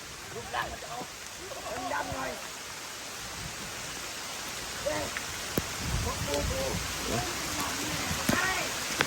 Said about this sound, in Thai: โอ้ต้องลุยกลางฝนเลยนะครับ